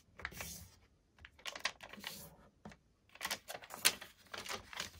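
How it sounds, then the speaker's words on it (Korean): Sheet of origami paper flipped over and folded into a triangle, a close run of crisp, quiet paper rustles and creases in short bursts separated by near silence, with no talking. "종이를 뒤집어서 삼각 접기를 해주세요"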